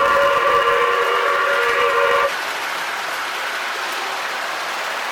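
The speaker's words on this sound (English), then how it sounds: "the whistle tends to cut out on that." A RailKing Hiawatha passenger set's model train whistle blows a steady, loud steam-style tone for about two seconds, then cuts out abruptly, leaving a quieter running hiss and rumble.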